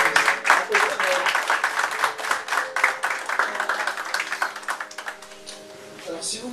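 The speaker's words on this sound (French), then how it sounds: "Nous pouvons quand même applaudir Leïla." Audience applause for a speaker at a French-language presentation, dense clapping from a room of people that fades out toward the end, with some murmuring voices mixed in.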